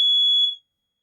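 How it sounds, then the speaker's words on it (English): A smoke alarm gives one shrill, steady electronic beep lasting about half a second and then cuts off, leaving silence; loud and close, with no voices. "The fire alarms are going off."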